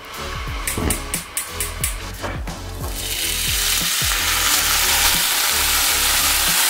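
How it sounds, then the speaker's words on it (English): Bacon frying in a pan, starting with a few sharp scraping clatters of a utensil against the pan, then building into a loud, dense, continuous sizzle that fills the rest of the clip without any talking. "we're gonna cook the bacon"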